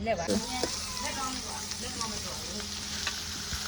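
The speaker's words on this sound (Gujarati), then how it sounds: "તો ડુંગળીને આપણે તેલમાં શેકવા માટે નાખી દીધી છે" Chopped onions sizzle and crackle steadily in hot oil in a pan for a Gujarati sing bhajiya curry, with a short stirring clatter at the start and the frying continuing at moderate volume.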